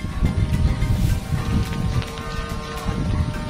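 Gusty wind buffets the microphone outdoors while a kite is flown, a rough, rumbling rush that swells and eases in waves throughout, with faint rustling underneath.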